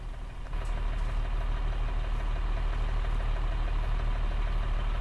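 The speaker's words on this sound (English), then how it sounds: "Oh, listen to that engine." A tractor engine idles steadily and close by, a low, even rumble that swells slightly in the first half second and then holds constant.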